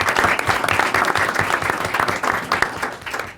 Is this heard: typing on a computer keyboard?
no